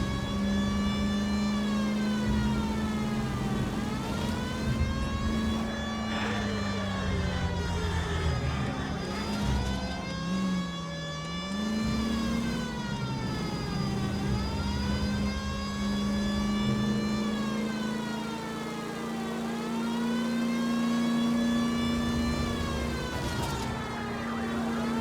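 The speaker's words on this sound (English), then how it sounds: "The hell would you run in front of a police car with a siren out?" A wailing police car siren in the video game L.A. Noire, loud and continuous, sweeping up and down in long slow cycles over a low engine rumble.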